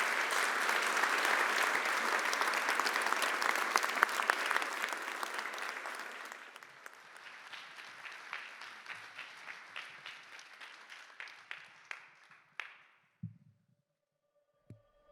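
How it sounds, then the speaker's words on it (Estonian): Audience applause at the Solaride solar car team presentation, a dense, loud wall of clapping that gradually thins into scattered individual claps before fading out, with a brief low thump near the end. "Nii et tehke suur aplaus iseendale"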